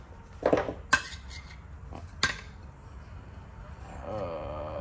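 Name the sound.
removing lug nut covers from semi truck wheels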